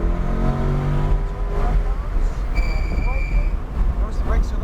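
A Corvette C8 Z51 accelerating on a race track at New Hampshire Motor Speedway, its engine tone rising steadily and loud inside the cabin, with a passenger's voice speaking over it.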